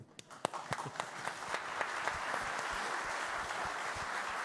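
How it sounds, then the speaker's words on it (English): Audience applause at an event marking 30 years of The Moscow Times, beginning with a few scattered claps that quickly swell into steady, dense clapping from a moderate-sized crowd. "I think we need to applaud."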